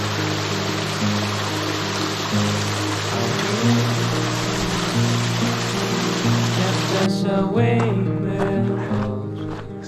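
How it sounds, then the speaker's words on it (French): A waterfall in the Dolomites gives a steady, broad rush of water that fills the clip, loud and close. The roar thins and drops somewhat in the last few seconds. "Une cascade."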